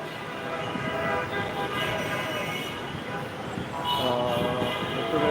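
A metro train at Karwan Bazar station in Dhaka, a close, steady mechanical rumble with tonal whine rising and layering over it, with people talking in the background.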